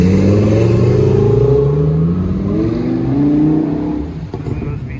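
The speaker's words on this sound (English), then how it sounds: "as the show ends, our Lamborghini friends and more are leaving" Lamborghini V10 and Corvette Z06 sports cars leave a car show at a deli on a hot day, engines revving and accelerating loudly as they pull away, rising then fading into the distance.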